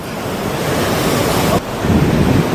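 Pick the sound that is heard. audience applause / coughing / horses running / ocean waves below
ocean waves below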